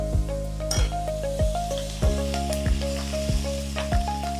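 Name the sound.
nigella seeds and green chilli sizzling in fish-frying oil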